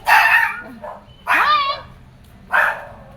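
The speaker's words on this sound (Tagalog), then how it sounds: "Oh, ayan yung aso ko." A dog barks three times, each a short burst of yips and whimpering barks spaced about a second apart, fairly close and loud.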